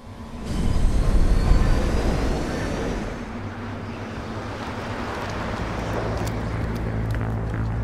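A cargo train in the video game Mass Effect on the Eden Prime colony, a loud rumbling surge at first that settles into a steady mechanical drone with a low hum, alone and with no voices.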